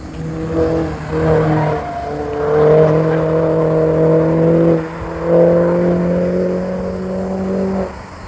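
A modified BMW's engine revs loudly and close by on a winding road in Marmaris, holding several sustained droning pulls that dip briefly between gear changes, with no talk over it.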